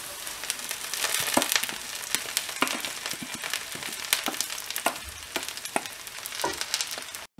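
Drumstick leaves with onions frying in a pan, a steady close sizzle and crackle broken by sharp stirring scrapes throughout.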